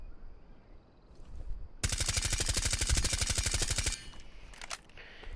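Suppressed automatic fire from Thatcher's gun in Rainbow Six Siege, a rapid, evenly spaced string of about twenty muffled shots in a two-second burst, set between quieter game ambience.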